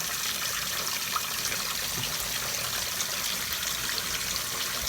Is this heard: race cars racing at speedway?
no